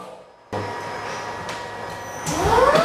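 A floor-sanding robot runs its sander over a hardwood floor, starting abruptly with a steady mechanical drone and grinding rumble, then a rising whine building toward the end, close and fairly loud.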